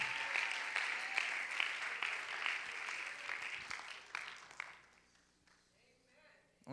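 A church congregation claps in praise during a bilingual service, a dense round of applause that thins out and fades, with a voice speaking near the end.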